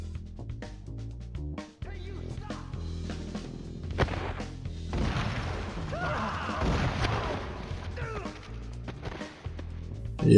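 Gunfire and heavy weapon blasts from the PlayStation 2 shooter 100 Bullets ring out in sharp repeated cracks and booms, with a denser barrage in the middle, over game music and sound effects.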